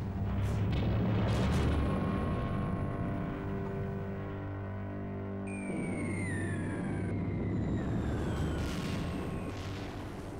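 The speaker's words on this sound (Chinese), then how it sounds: "日本海军投入超过140架轰炸机，对重庆实施了又一次惨烈的轰炸。" Bombing of Chongqing by Japanese bombers, with a continuous heavy rumble of explosions and aircraft drone, then descending whistling tones of falling bombs, heard in an archival-sounding recording.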